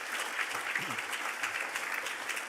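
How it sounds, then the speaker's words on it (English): Audience applause welcoming panelists at a public sector governance and financial management event: a steady, dense wash of many hands clapping, moderately loud and sustained throughout, with no voices over it. "Give them a round of applause."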